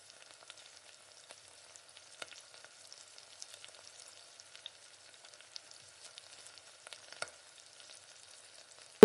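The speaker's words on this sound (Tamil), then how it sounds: "பின்னாடி இஞ்சி பூண்டு விழுது ஒரு 2 ஸ்பூன் சேர்த்து நல்லா பச்சை வாசனை போகிற அளவுக்கு நல்லா வதக்கிக்கணும்" Ginger garlic paste being sautéed in oil for a mutton bone curry gives a faint, sparse crackle of light sizzling ticks, with a louder bump right at the end.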